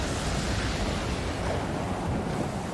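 Rough sea waves in a video game, a continuous loud broadband wash of surging water and wind-like rush with no distinct breaks, heard alone.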